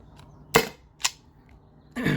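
Byrna SD less-lethal launcher powered by a 12 gram CO2 cartridge fires three sharp, loud pops with gaps between them, then a longer hiss-like burst at the end, heard alone without talk.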